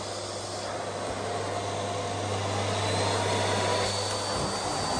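A Miele Gold S4211 2000 watt cylinder vacuum cleaner runs continuously with a loud, steady roaring whoosh and a low motor hum, swelling slightly midway, with no speech.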